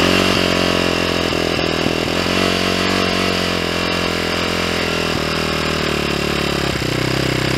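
A 2022 SSR SR300 Chinese dirt bike engine runs steadily with the choke on just after starting, a loud, continuous buzzing single-cylinder drone close by with no break.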